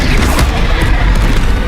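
Expelliarmus spell cast in Hogwarts Legacy, a loud booming burst with heavy low rumble and crashing texture filling the short stretch, steady and dense without talk.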